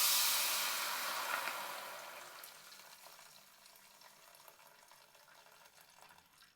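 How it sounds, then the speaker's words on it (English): Water is poured into a hot pan of toasting garam masala spices, starting with a loud hissing sizzle that steadily fades into a softer bubbling simmer. "Now I've bought some water. That goes in."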